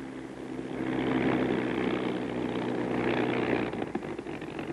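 Bell P-39 fighter engine running steadily while the aircraft taxis in to park, a loud continuous propeller-driven drone with a low rumble, holding level throughout with slight fluctuations near the end.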